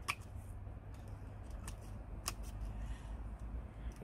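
Sharp metal snips cutting an external render bead, giving several brief crisp snaps spaced irregularly over a low background hum, close and moderately quiet.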